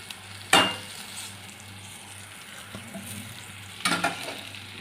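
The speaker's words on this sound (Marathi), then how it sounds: "चांगला मसाला फ्राय झाला, तेल सोडायला लागलं तर त्यात बटाटा टाकून घेऊया" Potatoes go into oil-rich fried masala in a pan and are stirred in. A constant soft sizzle runs throughout, broken by two sharp scraping clatters of the spoon.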